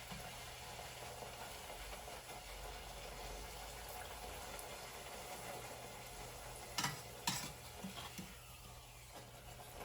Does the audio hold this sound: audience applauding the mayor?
no